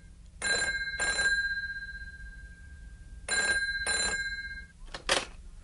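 Telephone bell ringing in a quiet room: two double rings with a pause between them, bright and metallic, followed by a short clatter as the receiver is picked up.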